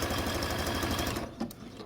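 Rapid, steady whirring stitches of a sewing machine sewing across an appliqué stem on a quilt block, running continuously close up, then easing off near the end.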